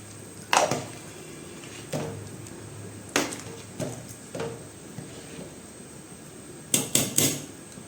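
A spoon knocks against a pot while chickpeas are stirred into gravy, giving a handful of irregular, fairly close clanks and taps separated by quieter pauses.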